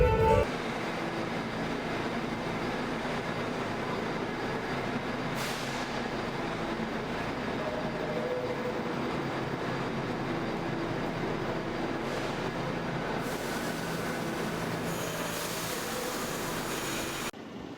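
A steady rumble and rattle from inside a city train while riding, continuous and loud throughout, with a couple of brief hissing bursts partway and no talking.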